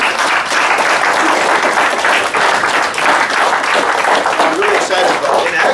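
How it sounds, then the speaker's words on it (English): A live audience breaks into loud, continuous applause, a thick, close rush of many hands clapping at a steady level throughout. "That's worth an applause."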